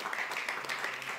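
Soft, continuous clapping from an audience at an Italian book presentation, a dense patter of many hands held at a low, distant level.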